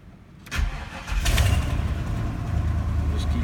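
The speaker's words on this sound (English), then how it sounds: "If you ever want to drive one of my pickups, you gotta have this chisel handle thing to start it." A Chevy pickup truck engine is started with a chisel handle in place of a key: a short crank, then the engine catches and settles into a steady, loud, close idle with a low rumble.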